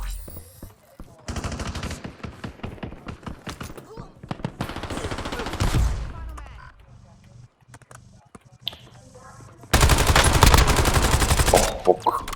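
Bursts of rapid automatic gunfire from an online multiplayer video game, in two loud sustained volleys with scattered shots between, while players talk over the action.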